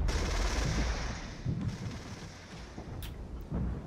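Artillery and small-arms fire in the Regiments war game, a dense stream of booming blasts and crackling shots, loud and close at the start, then scattered sharp bursts and thuds rolling on without speech.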